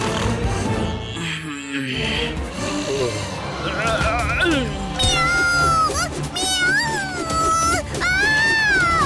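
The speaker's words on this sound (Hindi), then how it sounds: "यहाँ बिल्ली है।" A cartoon cat meows several times in drawn-out, wavering cries that grow more frequent toward the end, mixed with other cartoon sounds and voices.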